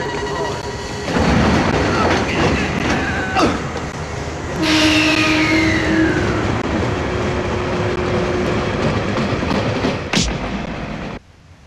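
A train running on rails, a loud steady rumble with a rising screech of wheels and a sharp clank near the end before it cuts off, heard alone without talking.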